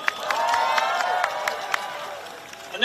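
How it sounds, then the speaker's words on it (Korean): Busy crowd applause mixed with cheering and scattered voices at an outdoor Democratic Party campaign rally in Busan, loud and close before trailing off near the end. "여러분, 큰 박수가 필요합니다."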